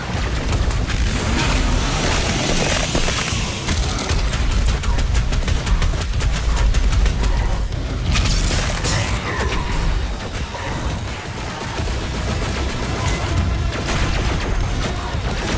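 Doom Eternal combat at close range, with dense, continuous explosions, gunfire and mechanical crashes forming a loud, unbroken wall of action sound.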